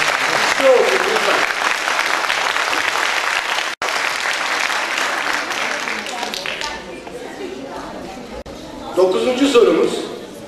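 Audience at a national culture quiz competition final breaks into strong applause, dense clapping that gradually fades, with a voice talking over the tail end.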